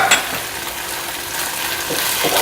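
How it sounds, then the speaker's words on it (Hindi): Chilli paneer with spring onion and green coriander stirred in a hot pan, giving a steady close sizzle with scraping spoon strokes near the end. "सारी चीज़ों को अच्छे से मिक्स करेंगे।"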